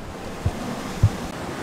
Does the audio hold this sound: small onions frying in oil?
no